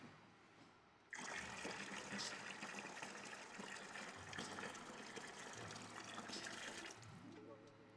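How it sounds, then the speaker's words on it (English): Liquid poured into a sugar wash for small-scale distilling, a steady close gush that starts abruptly and runs for several seconds alone, easing near the end. "So let's get the rest of the liquid in there."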